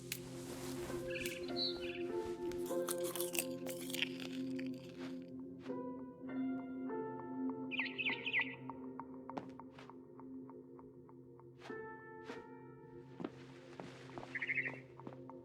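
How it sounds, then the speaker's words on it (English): Barn swallow chirps outside a window in the video game What Remains of Edith Finch, a few short bright calls rising over sustained tonal game music and ambience, with no talk. "Then I heard chirping outside my window."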